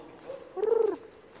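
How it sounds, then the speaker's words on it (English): A single pigeon gives one close, soft, pulsing coo, brief and clear, at a building site with a quiet rumble of background noise. "There's a pigeon."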